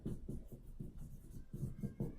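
Marker writing in green on a board, a quiet series of rhythmic squeaky strokes and rubs in short bursts, close and alone without speech.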